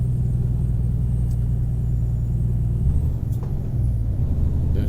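A Kenworth T610 truck with a Cummins 600 engine in American Truck Simulator drones as a steady, heavy low rumble, loud and unbroken, with only a slight dip in the middle and no talk.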